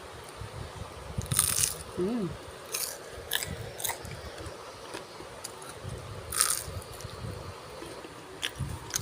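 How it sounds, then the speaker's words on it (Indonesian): Crispy homemade fried vegetable fritters (bakwan) are bitten and chewed up close, with repeated sharp crunches and crackles in an irregular rhythm, a faint hum sometimes rising underneath. "Yuk kita dengarkan kriuknya."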